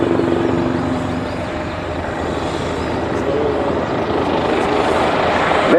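Military helicopters flying in and hovering at the ILA Berlin air show, Schönefeld, giving a loud, continuous rotor and engine roar with dense broadband rumble across the whole stretch.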